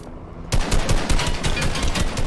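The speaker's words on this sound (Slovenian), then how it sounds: "Zakaj sem helikopter strelil?" Rapid gunfire bursts from a Fortnite match, aimed at a helicopter, crackling loud and close in quick repeated volleys after a brief quiet start.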